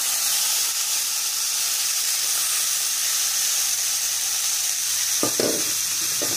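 Pork and mushrooms sizzle loudly in a pan for a stir-fried spaghetti dish, a constant frying hiss with a brief clatter of stirring near the end and no voices.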